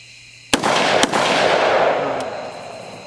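An AR rifle fitted with a PWS CQB compensator fires two close, sharp muzzle blasts about half a second apart, followed by a long rolling echo and a faint distant crack, with no talking.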